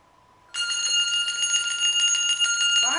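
Handbells shaken in a rapid tremolo, close and loud, a bright sustained ringing shimmer that runs steadily with rhythmic pulsing for about two and a half seconds after a quiet start.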